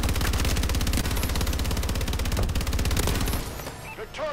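A turret in Call of Duty: Advanced Warfare fires a rapid, continuous automatic burst for about three seconds, loud and close, then cuts out, leaving scattered game effects.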